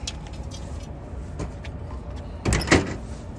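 A truck door during a pre-trip inspection: a quick door clunk with some rattling near the end, close and fairly loud against a steady background hum, with no talk.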